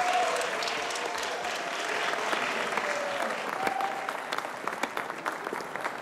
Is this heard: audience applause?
yes